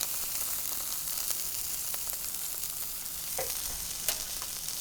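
Sous vide pork chops sear on a hot surface inside an outdoor pizza oven, giving a steady, close sizzle and crackle of fat that runs the whole time, with a few sharper pops and no talking.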